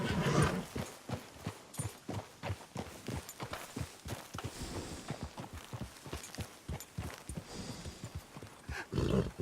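Steady clip-clop of horse hooves in Red Dead Redemption 2 trots along at an even rhythm, fairly close, with soft outdoor ambience underneath.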